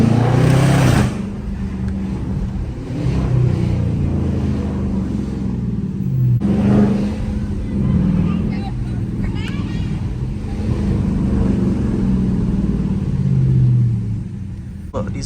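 A Dodge Charger RT running with its hood off gives a steady low engine rumble for the whole stretch, rising briefly under throttle, with someone talking over it throughout.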